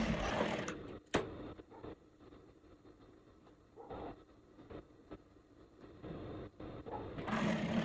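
Sewing machine stitching a belt onto a blazer bodice, a close, steady mechanical whir with a few sharp clicks and brief slowdowns, running alone.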